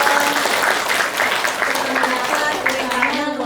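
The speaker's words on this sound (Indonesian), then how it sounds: "Wow, tepuk tangan dong." Applause breaks out for a guest on a student achievement talk show podcast, a steady broadband wash of clapping that holds at even strength throughout, with a voice murmuring faintly underneath.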